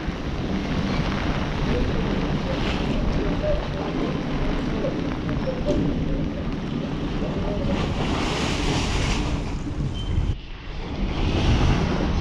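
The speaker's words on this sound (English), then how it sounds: "It's just started to absolutely pour down." Heavy rain pours down on a small fishing boat at sea during squid fishing after a storm, a dense, loud, constant hiss mixed with wind buffeting and a brief dip near the end.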